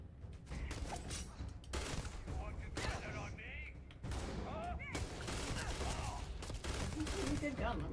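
Gunfire during a Starfield firefight, a ragged string of sharp bursts and cracks mixed with clanking mechanical noises, steady and loud throughout, with some talking partly underneath.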